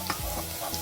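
Tomato sauce sizzles steadily in hot oil left from frying onions, a dense continuous crackle for Egyptian koshari, close and loud with no talking.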